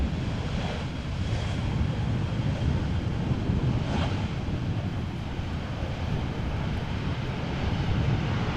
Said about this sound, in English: EasyJet A319 arriving from Palma de Mallorca.